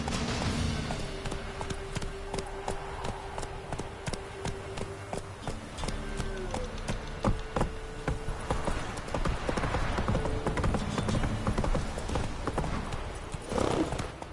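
Roach, a horse in The Witcher 3, gallops with a steady rapid clip-clop of hooves close by, a brief whinny near the end, under game music and scattered voices.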